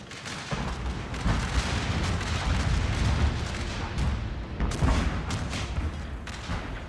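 Gunfire and artillery in a Civil War battle game set at First Manassas, a continuous din of musket volleys and booming cannon blasts, dense and loud throughout with sharp bursts standing out.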